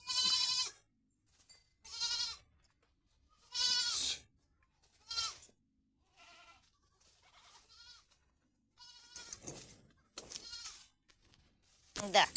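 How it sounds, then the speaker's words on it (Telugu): Young goats, among them a black-and-white spotted one, bleat close up again and again in short wavering calls separated by brief quiet gaps. "ఇది తెలుపు నలుపు చుక్కల మేక"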